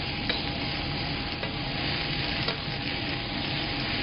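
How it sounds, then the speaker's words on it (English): Rutabaga, potatoes, celery root and onions sizzle steadily in a frying pan, a continuous close crackle broken by a few soft scrapes as the vegetables are stirred around. "I'm just going to stir this around a little bit."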